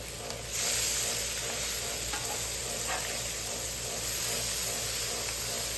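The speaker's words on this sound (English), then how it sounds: "Swap these, flip these bacon slices over." Bacon slices fry on a Camp Chef griddle in a loud, steady, close sizzle that holds without pause, with faint scrapes as the strips are flipped.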